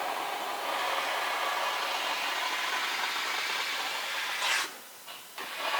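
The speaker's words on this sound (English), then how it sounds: "I've got the steamer ready." A steamer wrapped in a used but clean microfiber cloth hisses steadily while cleaning a Porsche 991 4S Targa during a premium detail, a continuous close broadband rush that briefly cuts out and sputters near the end.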